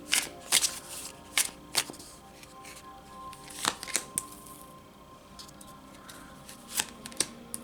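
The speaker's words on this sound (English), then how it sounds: "I'm gonna pull some cards for you guys." Tarot cards are shuffled close by in quick riffling bursts, the sharp flutters separated by short quiet gaps, with no voices.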